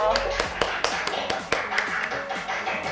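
An audience at a Korean football association event applauds a player's entrance with brisk, dense clapping and sharp individual claps close by, holding steady for a few seconds.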